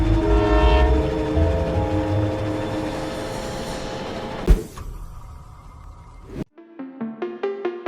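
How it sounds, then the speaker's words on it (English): A snowplow train in Canada rumbles heavily nearby, then a blast of its horn sounds in several loud, sustained tones toward the end. "it's simply a snowplow train in Canada doing unbelievable work."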